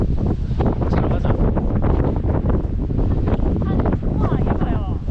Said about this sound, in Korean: 지금 밖에 바람이 장난이 아니어가지고